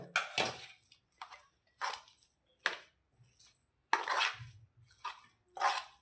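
A chana dal pitha filling is mixed in a bowl, making a quiet, irregular series of clinks and scrapes of a utensil against the bowl with pauses between strokes.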